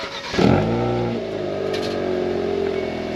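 A Hyundai Kona N with its GPF removed revs in normal mode: a sharp blip near the start that settles into a steady, slowly falling idle drone, close and loud with no speech.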